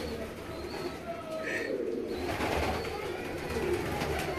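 Pigeons coo softly at a breeder's loft, with low throaty calls that come and go over a busy background murmur of other birds and faint voices.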